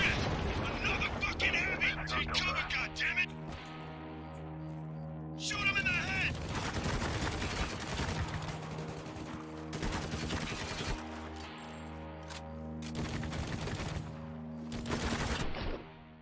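Rapid bursts of gunfire and enemy shots crackle in Spec Ops: The Line, several dense volleys separated by short pauses, loud and close over a steady low game hum, with a voice talking between the bursts.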